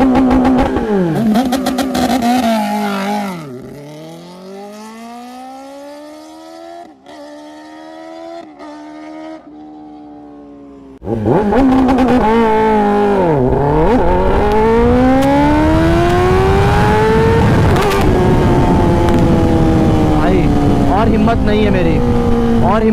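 A Kawasaki ZX10R sport bike engine revs hard with launch control, its pitch repeatedly sweeping up and falling back, loud and close, easing into a quieter idle before a sharp, sustained high-rpm roar returns; a voice talks at points.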